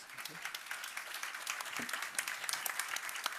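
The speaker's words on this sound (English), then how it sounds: "Oh, it's a great round of applause." Audience applause at a built environment retrofitting panel event, a fairly faint, steady patter of many hands clapping with brief spoken words over it.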